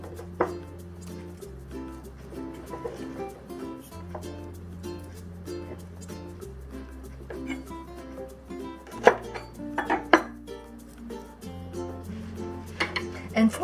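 A knife chops purslane on a cutting board in steady bursts of sharp taps, with a few louder knocks and clinks of kitchen utensils near the end, close and clear over a low hum.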